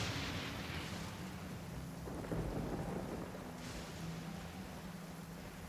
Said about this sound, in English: Tatarasuna is still with a thunderstorm that I didn't, because I didn't do the quest to lift the thunderstorm